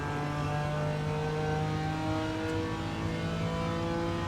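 Engine of a BMW M4 G82 GT4 in iRacing at Indianapolis Road, holding a loud steady drone with a rising tone and a slight pitch wobble throughout, close and alone, with no voices.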